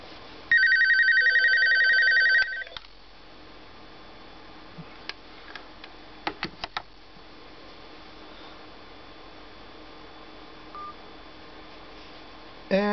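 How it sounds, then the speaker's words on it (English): A Sony IT-B3 touchtone landline phone gives a quick, loud run of dialing tones, then a long quiet stretch broken only by faint clicks and ticks, with a brief tone at the very end. "I'll demonstrate it by calling the number with the phone plugged into my landline"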